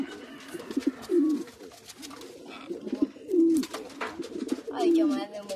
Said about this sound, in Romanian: Aici mai avem o porumbiță.